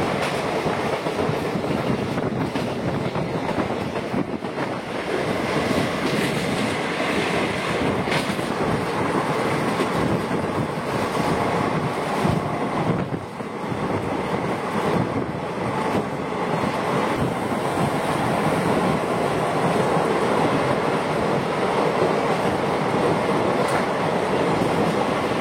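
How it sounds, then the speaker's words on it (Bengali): Train crossing the Bogibeel rail-cum-road bridge over the Brahmaputra, a loud continuous rumble of rolling wagons with rhythmic clickety-clack of wheels on the rails throughout. "ট্রেন এখন ভারতের দীর্ঘতম রেল কাম রোড ব্রিজ বগিবিল ব্রিজ পার করছে।"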